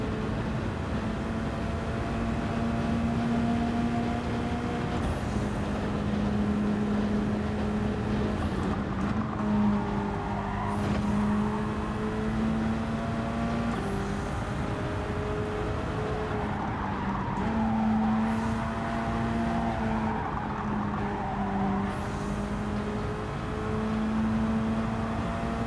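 Race car engine droning steadily with rising and falling revs and gear shifts in Gran Turismo 7 during a daily online race, loud and continuous with brief tire squeal as the car twitches and loses grip.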